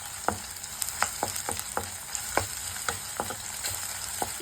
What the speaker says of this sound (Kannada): ಅದಾದಮೇಲೆ ಶುಂಠಿ ಹಾಕಿ ಚೆನ್ನಾಗಿ ಈರುಳ್ಳಿ ಬ್ರೌನ್ ಕಲರ್ ಬರೋ ತನಕ ಫ್ರೈ ಮಾಡ್ಕೊಳ್ಬೇಕು